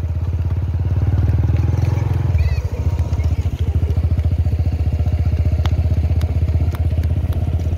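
A motorcycle engine revs up close, a steady strong drone that shifts around mid-clip into a rapid pulsing throb as a learner rider shifts into second gear and accelerates.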